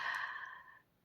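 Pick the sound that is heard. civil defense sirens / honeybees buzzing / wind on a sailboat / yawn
yawn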